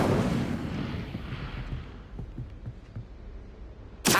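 A fire spell cast in Hogwarts Legacy: a loud, roaring burst of flame rumbles and fades over several seconds, with scattered crackles, before another sharp blast erupts at the end.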